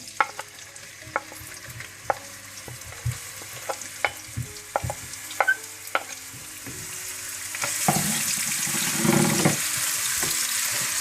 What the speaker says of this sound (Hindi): सबसे पहले आप तेल गरम कर लें। इसमें आप कटी हुई प्याज बारीक डाल दें।